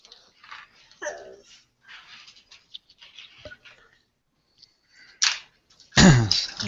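A dog that wants to go out makes faint whimpers and snuffling sounds, then gives a sharp, loud bark or two at the end, close by in a quiet room.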